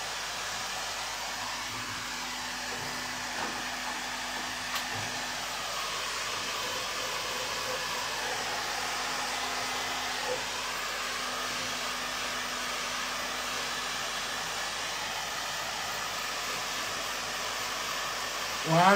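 A hair dryer blows steadily and close over rose gold metallic paint on a shabby chic candle holder, making a constant loud whoosh that holds for the whole stretch with no break.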